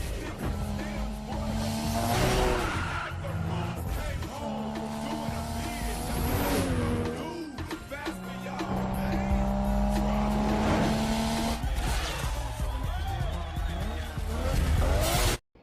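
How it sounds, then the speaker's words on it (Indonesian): Four cars street racing in Fast and Furious 2 (2003): engines rev and roar loudly, with rising gear changes, tire squeal and passing whooshes. Music and voices mix in underneath. "Empat mobil pun bersiap untuk balapan."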